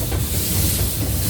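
A small steam train gives off a loud, steady hiss of escaping steam, close by and with no voices over it.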